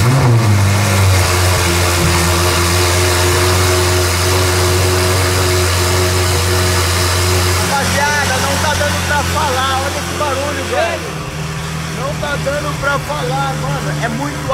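A Ferrari engine with an exhaust-only setup revs loudly inside a road tunnel, dropping through several deep, booming sweeps and then a crackling, popping burble, close and echoing, while someone talks throughout.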